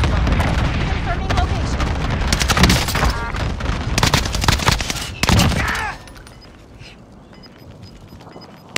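Call of Duty: Modern Warfare battle in which dense bursts of gunfire and booming airstrike explosions pile up loudly for several seconds, then cut off abruptly to a quieter, faint background.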